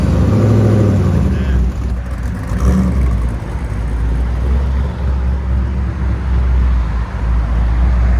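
A cammed Chevy Silverado with a 6.0L V8, headers and Magnaflow side pipes idles and revs close by, a loud, continuous exhaust rumble with a lumpy, uneven throb throughout.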